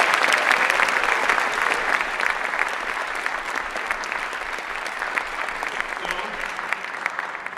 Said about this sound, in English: So let's give a little round of applause.